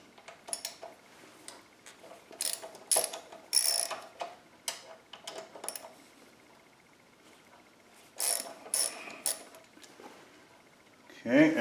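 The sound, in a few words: ratchet loosening motorcycle axle pinch bolts, Honda Goldwing F6B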